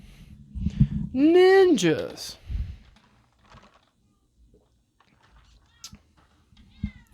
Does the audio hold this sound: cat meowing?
yes